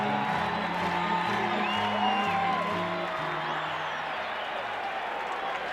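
A big crowd at Busch Stadium during Game 5 of the 1987 World Series between the Twins and the Cardinals cheers and applauds in a dense, continuous roar, with a low organ-like tone underneath.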